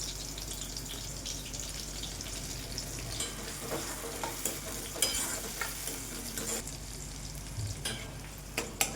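Onion and tomato, along with curry leaves, frying in about two spoons of hot oil for a masoor dal usal, a steady close sizzle with scattered stirring clinks and scrapes throughout.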